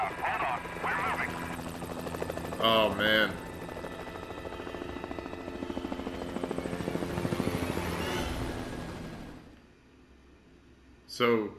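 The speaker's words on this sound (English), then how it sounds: "So, can we just chase the helicopter?" A helicopter in the video game Prototype gives off a steady, loud rotor drone throughout, broken by sharper bursts of action sounds and voices, then briefly drops away near the end.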